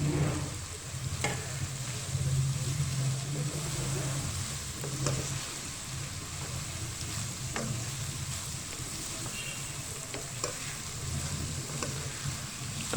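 Fried potatoes sizzle in a pan with soy sauce for chicken macaroni, a steady crackling fry broken by occasional scrapes and clinks of stirring, close and moderately loud.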